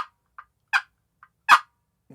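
A turkey call gives a series of short, sharp yelps, some louder than others, spaced irregularly with silence in between.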